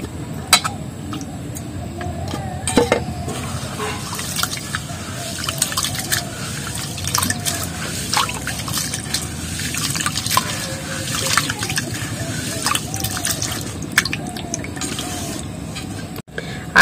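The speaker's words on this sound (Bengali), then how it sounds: "নিচ্ছি, ধুয়ে নেবো চালটা।" Gobindobhog rice being washed in water, with continuous sloshing, swirling and dripping close by and small clicks of grains and vessel throughout.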